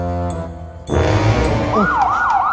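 A police car siren starts with sustained tones, then shifts to a loud wail that rises and falls in repeated sweeps, close and prominent with no speech.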